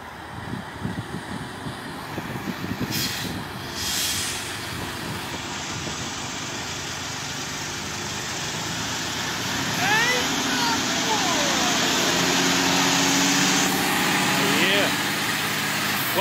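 Mercedes-Benz Actros truck engine running steadily on a steep ramp test in Brazil, hauling about 80 tonnes, a continuous low drone that grows louder toward the end, with people talking over it throughout.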